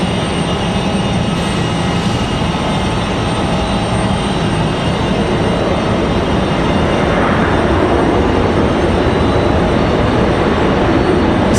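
A Copa Airlines airliner arrives at Raleigh Durham airport with a steady, loud, broadband jet engine roar that holds continuously throughout.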